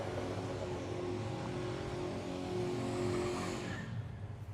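A drag race car revving hard while warming its tyres at a road trip drag challenge, a loud sustained engine roar with tyre squeal that cuts off near the end.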